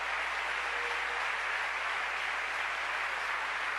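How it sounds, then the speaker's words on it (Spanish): A church congregation applauds during a Sunday Spanish-language service, a steady, dense wash of clapping from a large crowd that holds evenly throughout without any voices on top. "Dale un aplauso fuerte al Señor"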